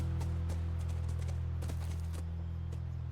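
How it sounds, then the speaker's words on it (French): A horse's hooves clip-clop in The Last of Us Remastered, several hoof strikes over a steady low engine-like drone, with no voices. "Ah, j'ai eu du mal à garer le cheval."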